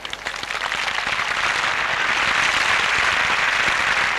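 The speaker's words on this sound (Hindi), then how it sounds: "कृपया मिस्टर वसंत पंडित का तालियों से स्वागत कीजिए" An audience applauds to welcome a speaker at a life achievers program event. The dense, steady clapping swells over the first second and then holds at full strength, with no voices over it.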